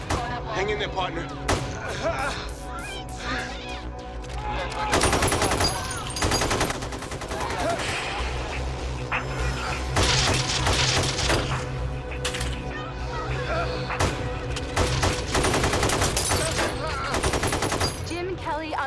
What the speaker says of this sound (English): What you hear behind me is not coming from a movie set. It is actual gunfire.